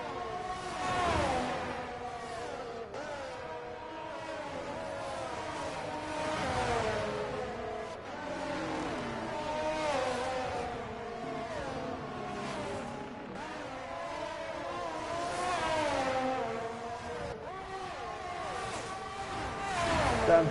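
An exhaust-modified street car is revved repeatedly over about twenty seconds at a Miami car event, its engine note rising and falling in wavering whines, close and continuous with no clear talk over it.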